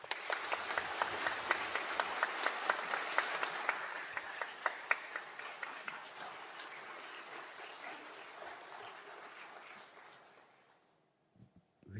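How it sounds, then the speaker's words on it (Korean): A church congregation claps loudly in welcome for a guest preacher at a revival meeting, dense applause that gradually thins and fades out near the end. "나오실 때 큰 박수로 우리 환영하시길 바랍니다"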